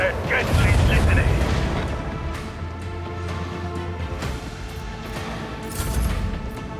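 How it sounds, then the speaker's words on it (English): Starship macro cannons in Warhammer 40k Rogue Trader firing heavy booming salvos, a loud deep rumble early, then sharper repeated blasts over mechanical game noise, swelling again near the close. "Let the macro cannons sing their deadly litany."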